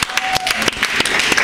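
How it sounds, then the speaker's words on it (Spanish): Audience applause at a Marbella event: dense, steady clapping from many hands lasting just over a second, loud and close, with no voices over it. "Aplausos para Marbella, muy bien."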